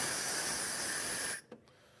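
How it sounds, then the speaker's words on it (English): Steady, loud hiss of steam blowing through an espresso machine steam wand, cut off sharply near the end, followed by a brief faint sputter and quiet. "I'm going to roll some more steam through there to clean things out"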